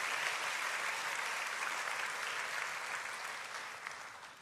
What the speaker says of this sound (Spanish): La Biblia merece un aplauso.